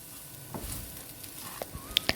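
Potatoes coated in Chettinad masala fry in oil, a faint, soft sizzle with a few scraping stirs and two sharp clicks of a spoon against the pan near the end.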